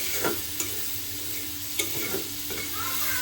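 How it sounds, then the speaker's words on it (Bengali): Chopped onion and green chillies frying in oil left from prawns, a close, steady sizzle punctuated by a few quick scraping clicks as they are stirred. "এখন সেই তেলের মধ্যে দিয়ে দিয়েছি পেঁয়াজ কুচি আর কাঁচামরিচ"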